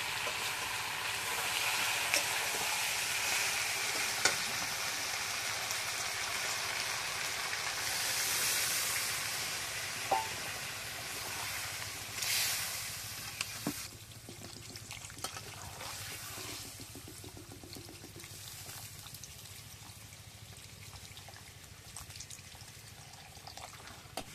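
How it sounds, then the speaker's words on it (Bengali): Fried rice masala frying in a pan as water goes in, giving a soft sustained hiss with a brief louder pouring swell around the middle and occasional light clinks, fairly quiet and steady throughout. "ভালো মতন কষানো হয়ে গেছে, এবার আমি জল দিয়ে দেবো।"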